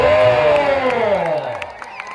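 At a village wrestling bout between Shanveer and Dada in Pusegaon, Satara, a crowd cheers and claps under a loud, drawn-out announcer's voice, and a few scattered claps remain as the noise fades.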